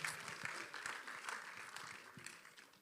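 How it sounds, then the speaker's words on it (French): Audience applause at the official presentation of the 2023 Tour de la Guadeloupe, honoring the Guadeloupe islands regional cycling committee team; steady clapping from a crowd fills the moment with a few sharper claps standing out. "vous demander quand même des applaudissements bien nourris pour cette belle équipe du comité régional de cyclisme des îles de Guadeloupe"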